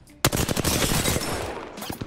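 Rapid automatic gunfire from a first-person shooter game, a sudden loud burst of dense repeated shots that continues steadily for about two seconds, close and alone without talk.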